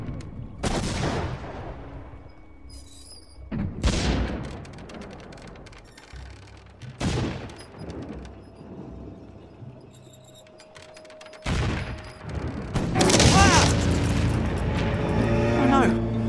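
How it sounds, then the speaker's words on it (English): Gunfire in the adventure game Lost Chronicles of Zerzur comes as several loud, separate bursts spread across the clip, then thickens into a heavy, sustained volley near the end over a rumbling background. "Someone's shooting at us."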